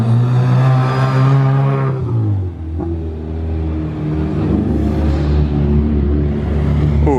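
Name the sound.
yellow Porsche GT3 engine revving on circuit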